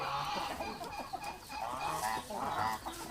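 A young turkey calls nearby in a farmyard, a run of honking, clucking gobbles repeated irregularly at moderate volume with no speech.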